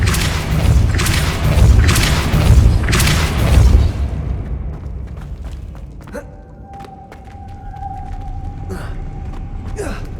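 The Depulso force spell from Hogwarts Legacy, a deep booming rumble with repeated heavy pulses that fades into quieter ambient tones and faint magical chimes.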